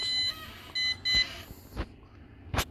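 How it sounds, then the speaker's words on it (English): Holy Stone HS510 drone remote controller sounding a few short electronic power-on beeps, steady tones near the mic, followed by a couple of brief clicks. "Powered on the drone. I'm going to power on the remote."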